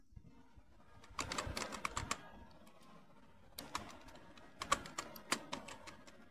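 Close, fairly quiet keystrokes on a computer keyboard while entering narration in Tally accounting software, two bursts of rapid typing separated by a brief pause, no speech.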